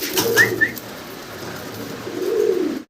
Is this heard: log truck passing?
no